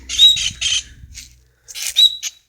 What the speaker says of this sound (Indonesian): Burung tengkek andalan ini.